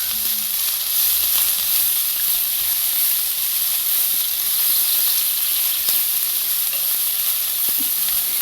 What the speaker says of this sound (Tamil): இந்த கருவேப்பிலையும் மல்லித்தலையும் கொஞ்சம் வதங்கி வர வரைக்கும் வதக்கினா போதும்